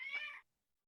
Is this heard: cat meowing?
yes